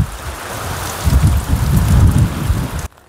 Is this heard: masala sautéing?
no